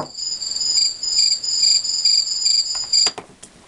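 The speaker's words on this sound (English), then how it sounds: "So for this one, you have crickets." Recorded cricket chirping plays from a toy beach house's sound-effect button, a steady high pulsing trill that cuts off near the end with a click.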